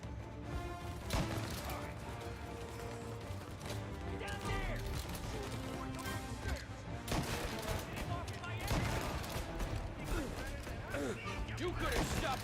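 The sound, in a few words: gunfire from the video game Mafia: Definitive Edition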